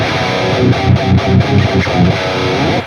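A distorted electric guitar through the Archetype: Petrucci amp plugin, playing a chugging, palm-muted riff, loud and close, with reverb and delay off so there is no echo or trailing reverb.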